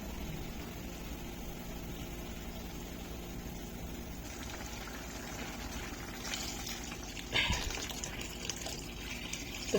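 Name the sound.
lentils boiling in water in a pot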